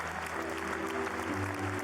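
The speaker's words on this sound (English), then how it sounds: "an enthusiastic cheer spreads throughout the stadium" Stadium crowd at Wimbledon Centre Court cheering and applauding as Roger Federer and Victor Hanescu walk out, a broad, steady roar of clapping and voices with a low tonal hum underneath, continuous throughout.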